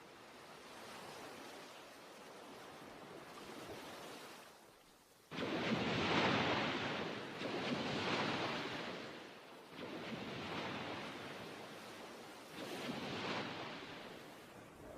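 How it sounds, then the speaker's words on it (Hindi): Sea waves rolling onto the shore, a steady broad wash that swells loudly in repeated surges every few seconds, with no voices over it. "ये समंदर है फ्लावर।"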